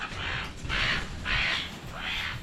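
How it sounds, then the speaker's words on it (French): A large crow gives four harsh caws in a slow, even rhythm, loud and fairly close, in a hot outdoor setting on an island. "Il y a un méga corbeau."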